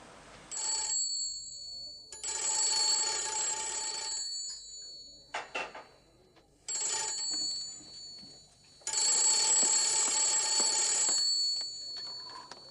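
A telephone rings in long, shrill electric bell bursts, several rings separated by short silences, fairly close and alone with no talking.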